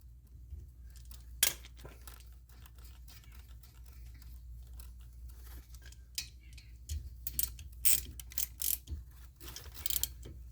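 A ratchet tightens brake caliper bolts on a 2011 Ford Fusion, a series of close, sharp mechanical clicks in irregular bursts, thickening toward the end over a low workshop hum.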